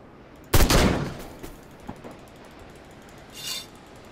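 A gun in the video game Sang-Froid fires one loud, sharp burst, followed by a few fainter mechanical clicks and a softer crack a few seconds later.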